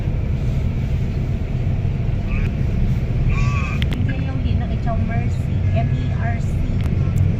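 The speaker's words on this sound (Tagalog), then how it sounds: "See how heavy the traffic is." Heavy road traffic on EDSA in Manila, heard from inside a moving bus as a loud, constant low engine rumble with faint horn-like tones and voices talking over it.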